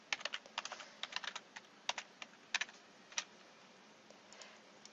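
Fingers type on a computer keyboard in irregular bursts of crisp clicks, close and fairly quiet, tapering off near the end with no talking.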